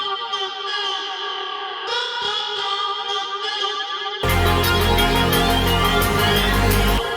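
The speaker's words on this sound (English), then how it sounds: "And then a reverb." Layered synth lead for an electronic track remake, treated with flanger, compression and reverb, sustained bright tones with a sparse echoing phrase that gives way to a full, dense section with heavy low end halfway through, no talking.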